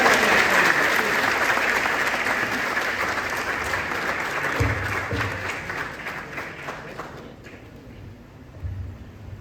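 Warm applause from an audience at a Snehmilan reunion gathering welcomes ghazal poet Raeeshbhai Maniar, a dense roomful of clapping that gradually thins and dies away toward the end.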